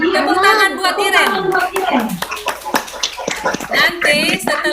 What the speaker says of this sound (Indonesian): Tepuk tangan buat Iren